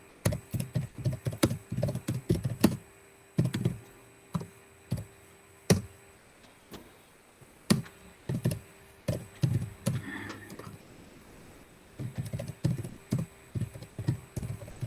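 Keyboard typing while entering R programming code, steady clusters of close, crisp keystrokes with brief gaps, no voices present.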